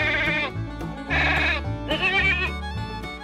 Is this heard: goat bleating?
yes